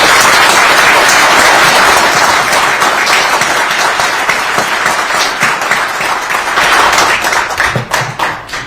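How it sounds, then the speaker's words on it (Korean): Loud, sustained applause from a large crowd at a civic group's founding event fills the whole stretch, dense and continuous with scattered sharper claps near the end. "다시 한번 박수"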